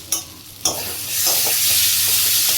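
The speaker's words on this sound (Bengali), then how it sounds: "দিয়ে আবার কিছুটা নাড়াচাড়া করতে হবে, সামান্য কষিয়ে নেব" Spice masala with green chillies for a potato and prawn curry sizzles steadily in a pan, with two sharp scrapes of stirring early on before the frying hiss rises and holds loud and close.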